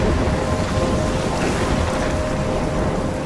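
Heavy rain and a stormy rumble in the Life is Strange video game, a dense steady roar of downpour with no talking.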